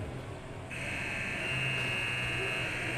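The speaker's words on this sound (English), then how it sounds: "Buzzer sounds." A loud, continuous electric buzzer at a Warriors vs Sun Devils game kicks in abruptly and keeps sounding steadily until the end, over a low background rumble.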